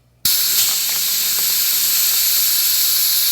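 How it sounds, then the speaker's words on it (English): A loud, steady air-gun blast drives oversized steel particles through a plasma-cutter particle filter, a continuous broadband hiss lasting about three seconds, with faint ticks of particles striking inside. "I have some comically large steel particles and an air gun"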